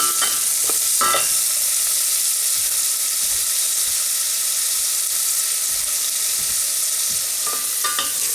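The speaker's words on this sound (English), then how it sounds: "Those will break up as they saute" Onions sauté in a hot pan with a loud, steady, close sizzle, broken by a few clinks of a utensil near the start and again at the end.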